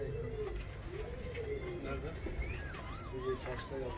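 Soft coos from ornamental Russian pigeons repeat in rolling, wavering calls close by in a coop, while a person talks over them in the background.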